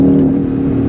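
A Volkswagen Beetle's 1500 engine hums loud and steady at close range, a thick low drone held through a brief moment.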